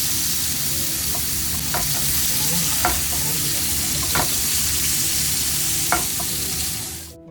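Fish rubbed with salt and turmeric fries in a pan with a loud, even sizzle close by, punctuated by a few light taps and scrapes of a utensil, ending abruptly.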